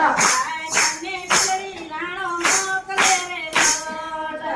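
About six sharp, evenly spaced hand claps beat along with a devotional Gujarati satsang song about Mirabai, sung by a group whose voices carry between the claps.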